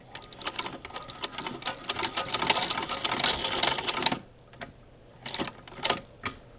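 A Singer 15-88 sewing machine fitted with a zigzagger attachment stitches in a rapid clattering run for about four seconds, then pauses and gives a few short bursts of needle taps close up.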